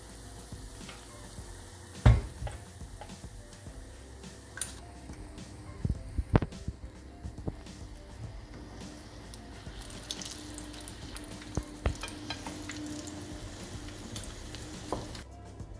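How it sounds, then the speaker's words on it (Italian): Zucchini flower fritters fry in plenty of hot oil in a non-stick pan, giving a steady sizzle broken by a few sharp clatters and spoon taps, with no voices. "Friggere in una padella antiaderente con abbondante olio caldo, formando le frittelle aiutandosi con un cucchiaio."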